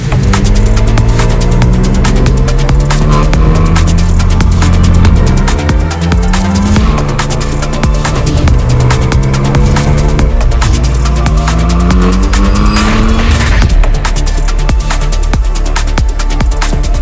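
A BMW M2 Competition (F87) Clubsport build is driven hard on country roads, its loud engine droning and rising through gear changes with a continuous throbbing exhaust note close to the listener.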